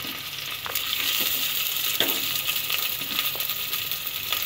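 Chopped onion, green chili and ginger sizzle in hot oil in a pan for a Kerala-style fish curry. The frying hiss is steady and close, broken by occasional stirring clinks and scrapes. Nobody speaks.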